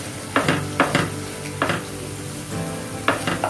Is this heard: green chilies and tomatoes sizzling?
yes